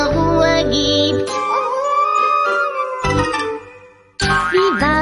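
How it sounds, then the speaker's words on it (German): A dog howls in a long, wavering, drawn-out wail that rises and falls, with yips and a short break before a final howl, set among a German children's song with music. "dieser Hund, der dumme Hund, dieser jaulende, maulende"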